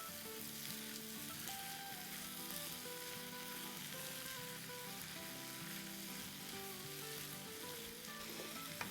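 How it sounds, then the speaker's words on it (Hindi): Mixed vegetables for a restaurant-style vegetable korma fry in a pan with a steady, even sizzling hiss, accompanied by faint sustained musical tones in the background. "चलें, अब हम इसको अच्छे से भूनते हैं।"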